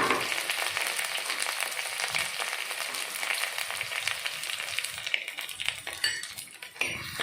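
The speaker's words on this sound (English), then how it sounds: "Add chopped onions and curry leaves." Chopped onions and curry leaves hit hot oil in a pan for a Goan chicken xacuti curry, giving a close, steady broadband sizzle with light utensil clinks, easing slightly near the end.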